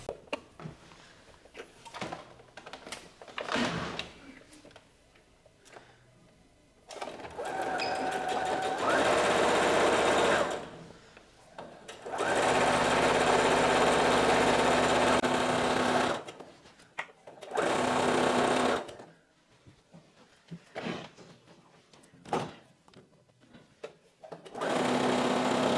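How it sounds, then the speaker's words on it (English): Sewing machine stitching a long seam down a maxi wedding guest dress, with several sustained runs of steady close whirring and short pauses filled with quiet fabric handling. "then I sew down all the way to the end of the dress"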